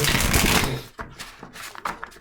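Tarot cards are shuffled close up in quick riffling bursts, a crisp papery flutter that pauses and resumes a few times.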